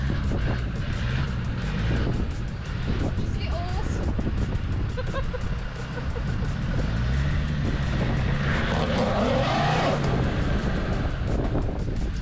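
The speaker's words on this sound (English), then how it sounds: "Spinning like crazy, that front wheel." A Land Rover Discovery 2 off-roading at Strata Florida, with a steady engine drone and rough rumbling as a front wheel spins, windy and close, with people talking over it.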